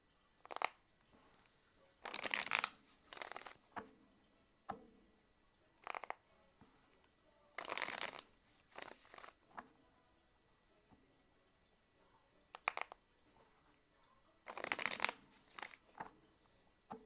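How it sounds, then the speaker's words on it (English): Tarot cards being shuffled by hand in irregular bursts of crisp riffling and slapping, quiet and close, separated by near-silent pauses. "So Noor, just tell me when to stop shuffling, okay?"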